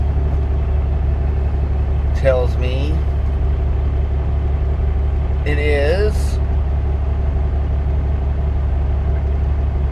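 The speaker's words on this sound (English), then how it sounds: "according to my truck, it's been idling for a while now" A pickup truck engine idles with a steady, loud, low drone that never changes, while a voice speaks briefly twice over it.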